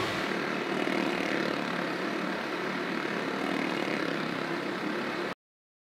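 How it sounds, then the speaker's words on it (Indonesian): Motorcycles circling the wooden wall of a Tong Edan wall-of-death attraction, a loud, steady engine roar that drones continuously for about five seconds before cutting off abruptly. "Tadi pemainnya kan melakukan atraksi menaiki sepeda motor mengelilingi dinding kayu."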